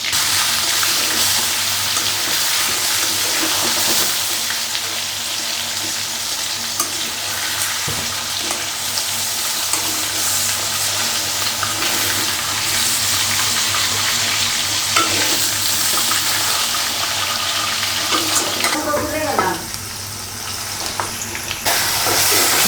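Food with spices frying and being stirred in a hot pan, a steady close sizzle with scraping stir strokes running throughout, and a louder clatter near the end.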